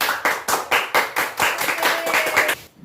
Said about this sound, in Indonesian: Tepuk tangan yang semangat